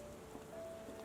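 Steady rain falling outdoors in Sherlock Holmes: The Awakened, a soft, even hiss of drops on surfaces, faint and continuous without pauses.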